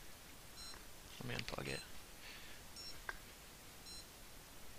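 Electronic speed controller in a fixed-wing model sounding lost-model alarm beeps, short high tonal bursts repeating at intervals, with someone speaking briefly over them.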